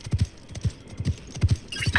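Horse hooves in the Highguard video game, a steady clip-clop gallop with paired hoofbeats repeating about twice a second, loud and close.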